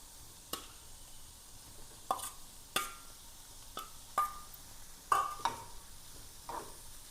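Paneer fries in a pan for white pulav, a soft sizzle broken by about eight distinct scrapes and knocks of a spoon stirring at irregular intervals, close and moderately loud.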